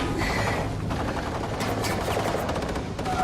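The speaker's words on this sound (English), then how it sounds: "Shoot! Shoot! You shoot good, Max!" Gunfire from an action film, heard as a dense, continuous barrage of shots layered over loud score and effects, with no clear gaps between bursts.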